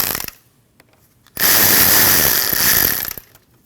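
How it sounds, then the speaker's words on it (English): A ratchet loosens the 8mm radiator hose clamp above the petcock on a 2013-2019 Ford Escape 1.5L, with a few faint clicks and then a loud, steady burst of rapid ratcheting lasting nearly two seconds. "You need to loosen your clamp to remove this hose."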